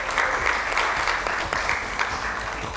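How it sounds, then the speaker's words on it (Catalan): Dense studio audience applause for a team of high school contestants on a quiz-style television program, a continuous even patter of many hands clapping at moderate volume for the whole stretch. "Un fort aplaudiment per ells."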